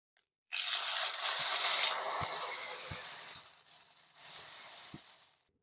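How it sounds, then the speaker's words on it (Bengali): Water poured into a pan of taro, potato and shrimp curry, a loud close splashing gush that runs for a couple of seconds, dips, then swells briefly again with light clinks. "এবার আমি জল দিয়ে দিচ্ছি পরিমাণ মতো ফোটানোর জন্য।"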